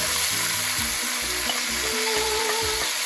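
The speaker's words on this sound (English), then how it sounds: "I am going to add my beef ribs back into the pan" Beef short ribs go back into a hot pan for a short beef rib stew with daikon, giving a loud, continuous sizzle broken by a few scraping, bumping stirs, with no talk.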